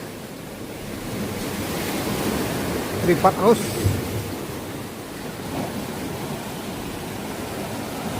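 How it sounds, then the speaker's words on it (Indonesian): Ocean waves at a hidden beach in South Bali, a steady broadband surf roar with gusty wind on the microphone, while a voice speaks briefly near the middle. "Ini adalah salah satu pantai tersembunyi yang ada di Bali Selatan ya."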